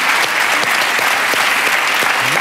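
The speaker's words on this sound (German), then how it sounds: "Der Applaus geht an beide" Continuous, close applause from a talk-show audience runs throughout, a dense even crackle of many hands clapping with no pauses.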